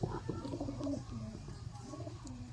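Teddy pigeons coo close by in soft, repeated throaty rolls, with a few faint chirps behind them and low murmuring voices in the background.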